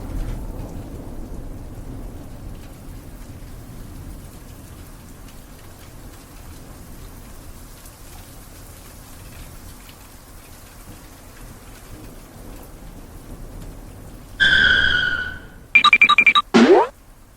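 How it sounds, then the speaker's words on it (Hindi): Steady rain hisses on for most of the stretch, then a few loud, sharp bursts break in near the end, rumbling like nearby thunder. "आज सुबह से ही बारिश हो रही थी"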